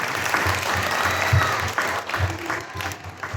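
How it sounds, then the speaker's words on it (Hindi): Applause from an audience at a children's fancy dress event at a mumukshu mandir in Vadodara, a burst of steady crowd clapping with rhythmic surges, close and fairly loud throughout. "जोरदार तालियां हो जानी चाहिए"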